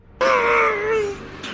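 A single drawn-out wailing scream rises suddenly and holds for over a second before fading, a close, loud sound effect in a Bigfoot horror tale.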